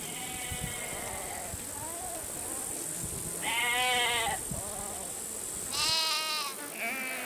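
Sheep and goats graze on the Central Asian steppe, giving several separate wavering bleats, some close and loud, over a soft outdoor background.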